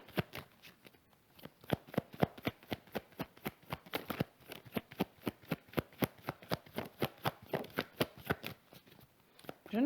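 Tarot cards shuffled by hand in a quiet room, a fast, regular run of crisp riffling snaps repeated many times, close and clear with no talk.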